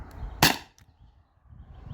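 A Beeman BP50 air pistol fires a single sharp, close shot, a brief crack followed by quiet.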